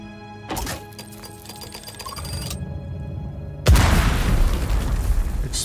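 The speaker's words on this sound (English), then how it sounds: "Explosive bomb" Explosive bomb going off in Dune Awakening, with a sharp crack and ringing tonal effects early, then a loud deep booming blast that rumbles on to the end.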